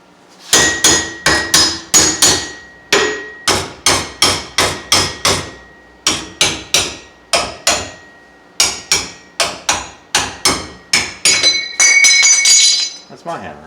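Loud, ringing metallic blows from a hammer on metal during a Ford Panther 5-speed swap, struck in rapid steady runs, each hit clanging bright, with brief pauses between series and a sustained scraping ring near the end.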